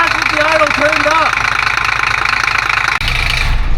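A 1985 Ford Hino diesel engine idles with its idle turned up, a steady close mechanical rumble with a slight knock. Someone talks over it near the start, and the engine runs on alone after he stops.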